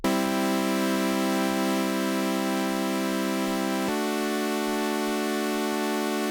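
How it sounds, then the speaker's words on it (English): A bright, buzzy pure sawtooth synth oscillator tone from an init patch holds steady, then jumps to a different pitch partway through and sustains, loud and dry. "the init patch, and it's just a pure saw oscillator"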